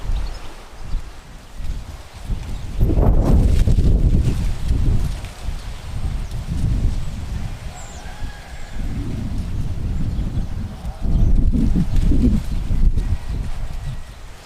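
Strong wind buffeting an outdoor no-dig allotment garden, a loud, continuous low roar with gusty surges that rise and fall throughout and drown out other sound.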